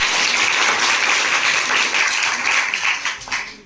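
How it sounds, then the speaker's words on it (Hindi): Loud applause from the audience at a school science quiz competition show, a burst of clapping that holds steady and then tapers off near the end. "एक बार जोरदार ताली बजाओ।"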